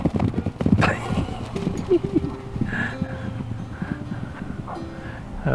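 Rescued horses clip-clop on hard ground as they are let out into the pasture on a family farm, hooves striking irregularly near by, with whinnies and neighs rising over the steps.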